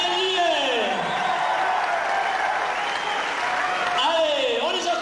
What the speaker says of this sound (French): Allez, vos applaudissements.